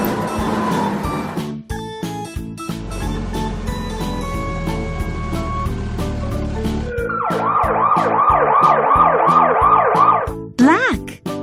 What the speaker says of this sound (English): Red. Fire engine.